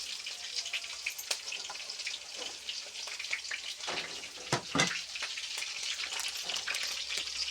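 Mustard seeds, added with cumin, sizzle and crackle in hot oil: a steady close hiss dotted with sharp pops and bursts of spattering, with no voices.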